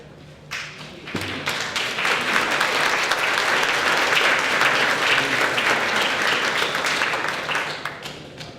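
Town meeting audience applauding in a hall, a full, even round of clapping that swells after a moment, holds steady, then eases off near the end.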